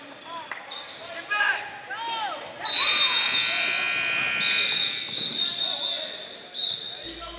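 A loud, sustained electronic final buzzer blares over an echoing gym at a girls' basketball game, with bouncing basketballs and crowd chatter, lasting a few seconds before cutting off.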